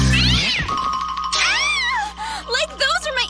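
A cartoon cat from the animated series Danny Phantom lets out a loud, drawn-out meow followed by shorter warbling yowls, set against background music with a steady tinkling tone.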